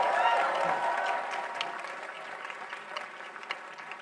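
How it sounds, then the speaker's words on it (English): An audience at a Les Brown keynote talk claps in a dense, steady burst of applause that tapers slightly over a few seconds. "Give yourselves a round of applause for this major investment you've made in yourself."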